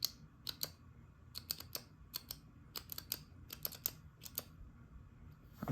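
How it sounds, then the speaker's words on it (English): A Fisher Space Pen Cap-O-Matic is clicked open and closed repeatedly, crisp close-up clicks in quick irregular pairs and bursts against a quiet background. "you guys can just hear it open and close"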